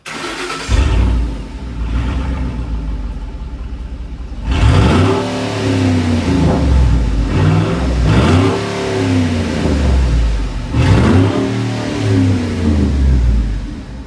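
A deep Ford Raptor V8 truck exhaust rumbles at idle, then revs up three times in strong, swelling bursts, close and loud.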